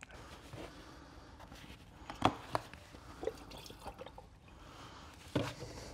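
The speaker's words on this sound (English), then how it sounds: "So I'm just going to drip some oil into that and light it" Oil dripping into a waste oil burner: a few sharp, separate drips land over a low, steady background hum, widely and irregularly spaced.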